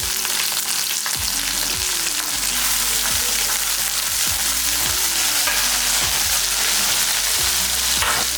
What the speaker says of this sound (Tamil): எல்லாம் ஒன்றா சேர்த்து நல்லா வதக்கிடலாம்.